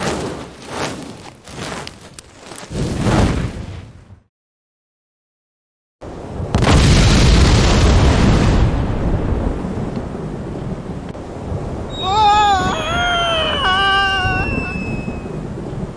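A bomb explodes in the pirate adventure game Monkey Island 2, a loud rumbling blast that bursts in after a moment of silence and roars on under wind-like noise, with squealing voices and a crying sound joining near the end.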